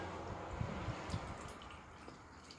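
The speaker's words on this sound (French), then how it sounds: "je rince mes grains de kéfir" Kefir grains (fruit kefir) rinsed with water in a strainer, giving close, quiet dripping and splashing with soft liquid gurgles throughout.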